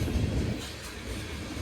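A BNSF freight train of grain cars rolls past in Mulvane, Kansas, a steady low rumble of wheels and cars, loudest at the start and easing slightly, with no voices.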